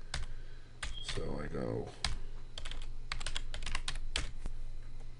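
Someone types a password on a computer keyboard: a quick run of close, crisp key clicks in bursts, with someone talking briefly over the start.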